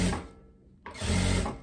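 A sewing machine runs a straight seam over an overlocked edge on a fabric poncho: a close, loud whirring burst, a brief pause, then another steady stretch of stitching, with no voices.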